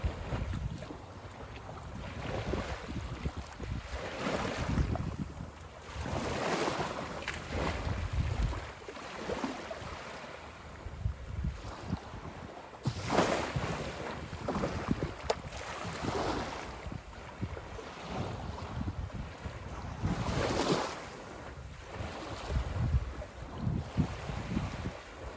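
Wind and surf at Bunche Beach, a shelling spot: continuous rushing breeze buffeting the microphone with waves washing in at irregular intervals, no voices.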